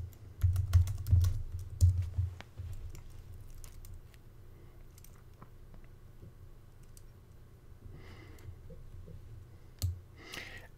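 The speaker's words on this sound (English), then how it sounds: "Type in your password for your local computer." Light keyboard typing on a Mac, a run of close, soft key clicks early on, then sparse taps over a low steady hum and a few later clicks.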